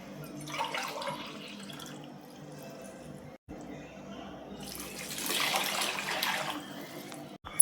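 Water pours and splashes in bursts into a cooking pot of rice for vegetable biryani, with quieter trickling between, close by.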